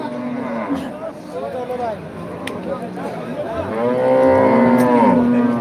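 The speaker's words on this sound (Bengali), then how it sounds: "এই পাশে দেখছেন অনেক গরু গলি উঠেছে অনেক বকনা গরু" Cows and heifers at a busy cattle market in Kaitla, Tangail, moo loudly and close by, with long drawn-out calls rising over a steady crowd murmur.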